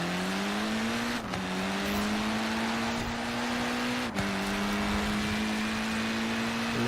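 Abarth car racing in Forza Horizon 4, its engine droning steadily at high revs with brief dips at gear shifts, loud and continuous with no talking.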